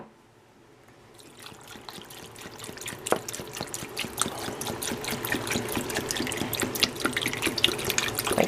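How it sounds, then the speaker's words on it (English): Water pours steadily into a jug of fruit water, a continuous close splashing and trickling that builds after a quiet start and keeps going. "And then you just kind of pour your water in there."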